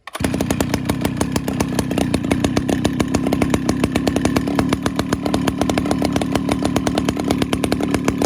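A ported Stihl 08S chainsaw fitted with an exhaust pipe and a 17-inch bar with 3/8 chain roars close by, firing in a fast, even, raspy rhythm throughout with no voices.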